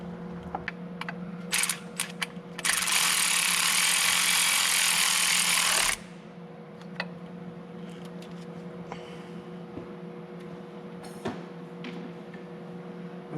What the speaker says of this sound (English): I'll take our 4 bolts and put them back in.